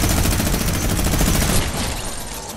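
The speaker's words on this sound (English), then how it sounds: "Please don't start using that minigun." Rapid, continuous minigun fire from a video game, a loud dense rattle that holds steady for a couple of seconds before easing slightly, with no talk over it.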